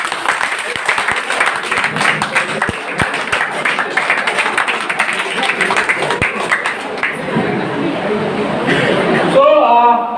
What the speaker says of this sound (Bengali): তাহলে কিরকম শুধু মেয়েরা আগে হাততালি দিন, কিরকম হাততালি?